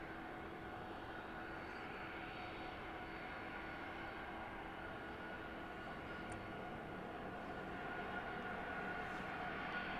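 A Boeing 737-800 on the runway at East Midlands Airport in the evening gives a continuous, faint, distant jet engine drone with a steady whine, with no voices over it.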